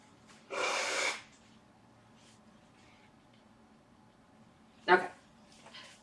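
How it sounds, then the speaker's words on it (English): Someone blows their nose nearby in a short, loud, breathy burst, followed after a quiet pause by a sharper snort and a few softer sniffles. "I had to blow my nose really quick"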